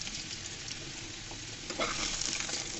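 Potatoes frying in a pan for a chicken curry with potato and pointed gourd, stirred as they cook, giving a dense continuous sizzle with scraping stir sounds, close and steady.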